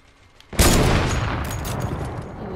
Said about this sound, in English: Shoot it, shoot the wall down.